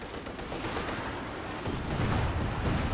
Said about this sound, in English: Werfer Barrage now coming in as well.